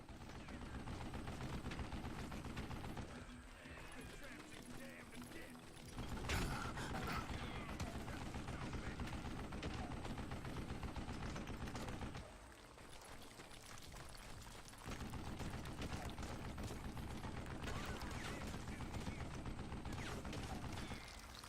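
Gunfire in a cowboy video game, with bursts of rapid shots rattling over a busy, dense battle ambience, interrupted by brief lulls, steady and fairly loud across the scene.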